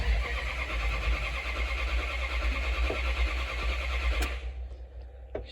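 A car's engine cranks steadily for about four seconds after two months without running, then cuts off without catching, leaving near silence.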